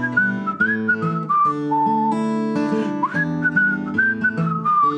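Someone whistles a lilting, wavering tune up close, the pitch sliding between notes with no other sounds.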